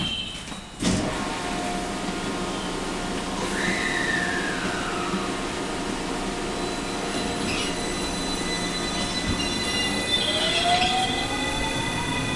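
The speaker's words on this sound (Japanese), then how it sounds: "姫路方面網走行きが発車します。 ドアが閉まります。" A JR West 223 series local train departs a station platform, its steady rumble of wheels and traction motors running continuously close by, with a rising motor whine and brief metallic squeals over the rolling noise.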